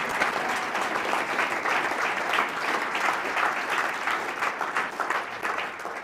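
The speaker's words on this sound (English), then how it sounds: "let's do one round of applause for all the presenters as well" Steady, moderately distant round of applause from a room of attendees at an emergency care conference session, many hands clapping evenly with slight swells and no speech.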